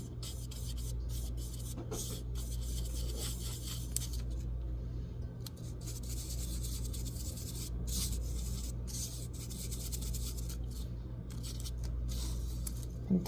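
A brush rubs material onto sticky-side-up paper while making fairy wings, giving soft, steady scratchy strokes that repeat close by and quietly, with no talking.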